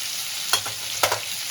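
Tomatoes, green chilli and salt sauté in a hot pan, a steady close sizzle broken by a few sharp scraping stirs of the spatula, with no voices.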